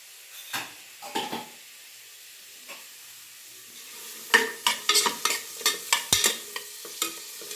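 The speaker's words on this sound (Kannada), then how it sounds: "ಈರುಳ್ಳಿನ ಚೆನ್ನಾಗಿ ಫ್ರೈ ಮಾಡ್ಕೊಂಡೋಣ ಈರುಳ್ಳಿ ಬಣ್ಣ ಚೇಂಜ್ ಆಗಬೇಕು" Sliced onions and chopped green chillies frying in a pan for mutton head curry, giving a steady sizzle broken by a run of sharp stirring scrapes and clinks that grow busier in the second half; no one speaks.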